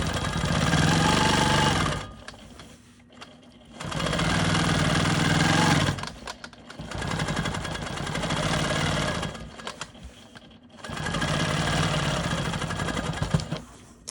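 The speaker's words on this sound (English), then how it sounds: "now I'm gonna go ahead and quilt my little boomerang here" A sewing machine free-motion quilting a boomerang shape on an eccentric star quilt block runs in three bursts of about two seconds each, with short pauses between them, a close, loud mechanical whir and rapid needle clatter.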